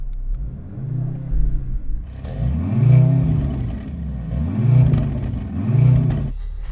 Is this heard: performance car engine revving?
yes